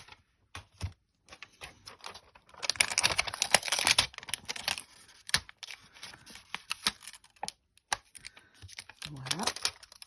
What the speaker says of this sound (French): Et je vais également tamponner quelques étoiles marines pour finir notre carte.